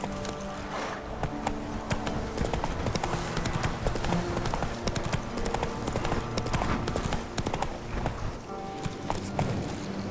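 Roach, a horse in The Witcher 3: Wild Hunt, gallops with fast, steady hoofbeats at close range, under a soft bed of game ambience.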